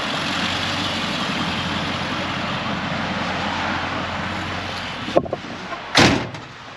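A 1972 Chevy C10 Suburban rolls along, a steady broadband road and engine rumble heard from inside the cab, broken near the end by a couple of sharp knocks or thumps.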